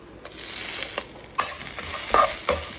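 Curry leaves fry in a pan of hot oil for Chettinad chicken curry, a steady sizzle growing louder as a spoon scrapes and clicks against the metal several times.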